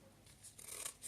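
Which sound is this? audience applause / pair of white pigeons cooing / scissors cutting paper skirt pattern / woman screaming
scissors cutting paper skirt pattern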